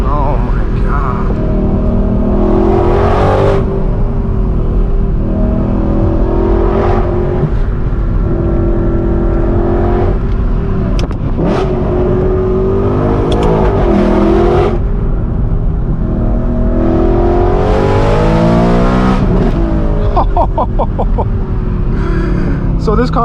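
A loud straight-piped, stage 2 Gintani-tuned BMW M3 E92 V8 accelerates in several rising pulls, its exhaust roaring up and easing off repeatedly, with people talking over it.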